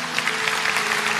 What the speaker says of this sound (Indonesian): Kasih tepuk tangan Tuhan.